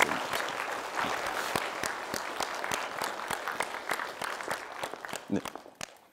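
An audience at a parenting talk concert in Gwangju claps steadily for several seconds, dense applause that thins and fades toward the end.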